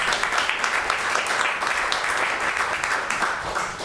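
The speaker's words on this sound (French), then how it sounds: "Merci, on peut t'applaudir." A crowd applauds steadily at a gala evening, a dense wash of many hands clapping at a fairly close, even level throughout.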